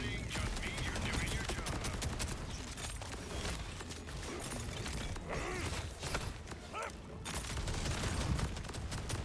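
Sniper-mode gunfire from a weapon in the shooter Borderlands 4, dense bursts of shots and mechanical clatter blending into a loud, busy battle mix with no voices.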